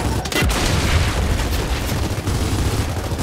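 A frag grenade explodes in the video game Gears of War 4, a loud close boom followed by a sustained rumbling roar with crackling debris, set among battle noise.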